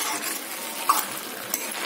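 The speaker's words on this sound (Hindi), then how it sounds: "दूध में डाल के भी अच्छे से हम गाजर को भून लेंगे" Grated carrots cooking down in milk in a pan for gajar halwa, a soft continuous sizzle with faint stirring and a couple of light utensil clinks.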